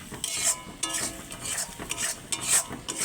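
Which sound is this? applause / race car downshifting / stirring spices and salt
stirring spices and salt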